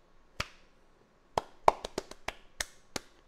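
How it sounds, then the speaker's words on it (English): Hands clap out a music rhythm, about nine sharp, close claps spaced unevenly with a pause after the first, heard alone without talk. "If we clap it out"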